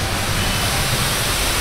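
Garlic water poured onto Bombay-style tawa pulao cooking on a hot street-food griddle gives a loud, steady, broadband sizzle and rush that holds evenly throughout.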